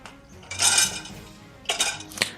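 Pans and dishes from dinner clatter in a kitchen, a longer ringing clank followed after a pause by two sharper clinks, close and fairly loud with little else around.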